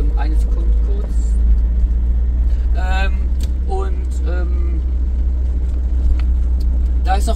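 A camper van rumbles through a roundabout in Switzerland, its low engine drone constant and close while a person talks over it.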